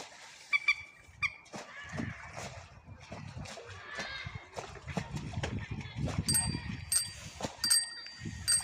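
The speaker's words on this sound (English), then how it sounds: "She's ringing the bell." A bicycle bell rings repeatedly near a group of fighting geese outdoors, bright metallic dings clustered toward the end over scattered rustling and background noise.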